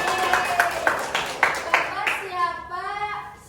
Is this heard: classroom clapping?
yes